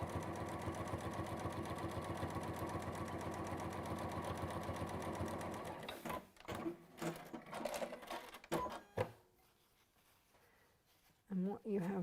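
A sewing machine running steadily while stitching a quarter-inch seam on fabric pieces for a colour wheel, a fast even whir for about six seconds before it stops and a voice follows.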